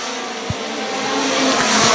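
Midget race cars roar past the start-finish line on an oval, a loud close engine wail swelling as they pass.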